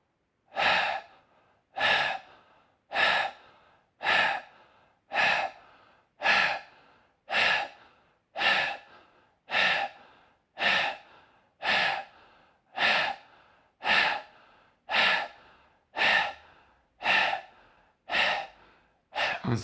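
Slow, deliberate breaths through an open mouth during a breathing exercise. About fifteen evenly spaced breaths come close and clear, each a soft airy rush that fades, with a steady rhythm and no talking.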